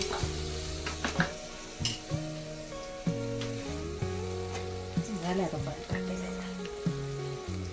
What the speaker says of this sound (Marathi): मम्मी बनवायला लागली उडदाची डाळ